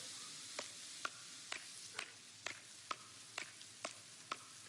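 Axe chops on coconut trees in Don't Starve Shipwrecked, a video game: nine sharp, evenly spaced hits about half a second apart, fairly faint over a low, quiet background, with no voices.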